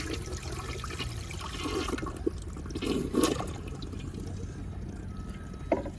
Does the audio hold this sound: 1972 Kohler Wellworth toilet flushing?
yes